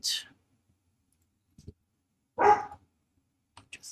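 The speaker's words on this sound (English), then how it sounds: "Go barking again, because that's what he does." A dog barks a few short, separated times in a quiet indoor room, the barks fairly close and brief with silence between them, along with a faint click.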